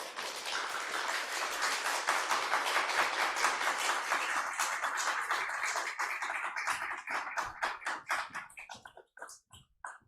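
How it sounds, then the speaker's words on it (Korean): An audience at a church winter retreat claps to welcome a professor, a full, even roar of applause that holds steady, then thins into separate claps and fades to scattered last taps. "우리 교수님 박수로 맞이하겠습니다"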